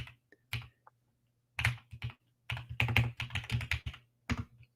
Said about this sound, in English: I guess I could just go to Amazon and type it in.